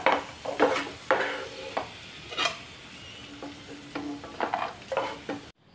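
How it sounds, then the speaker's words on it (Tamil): Cashews and raisins fry in ghee in a pan, a steady close sizzle broken by repeated scraping stir strokes, with no talking, ending abruptly. "பழம், முந்திரி பருப்பை நம்ம லேசாக நெய்யில் வதக்கி எடுத்துக்கிடலாம்"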